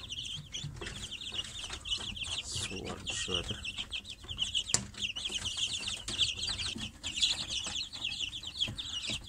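Dense, continuous high-pitched peeping from a crowd of chicks under 20 days old close by, with a voice speaking briefly over them.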